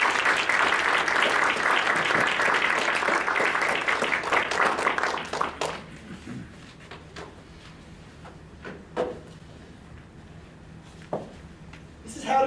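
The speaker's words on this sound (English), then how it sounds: "please give me a warm welcome of applause for Mark Henkel" Audience applause welcoming a presenter, a dense burst of clapping for about five seconds that trails off into a few scattered claps and room noise.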